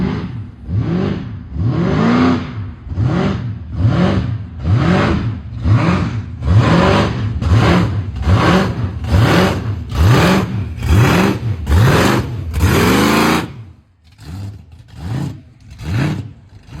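A supercharged Holden VX Clubsport engine climbs a hill in a rhythmic, exaggerated blower hunt. Loud surging revs repeat about once a second, then a short pause and a few choppier pulses. No voices.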